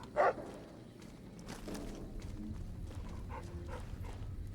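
A dog barks in the Fallout New Vegas video game, a short loud bark near the start followed by a few fainter ones over a low background hum.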